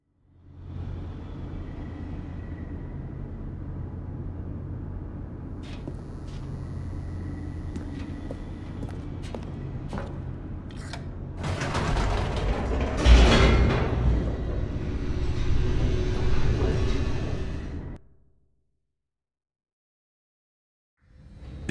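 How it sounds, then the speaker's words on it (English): An elevator descends in the video game The Stanley Parable with a steady low mechanical rumble. The rumble swells louder and rougher with rattling toward the end, then cuts off abruptly into silence. "The elevator raced downward, plummeting towards an unknown fate."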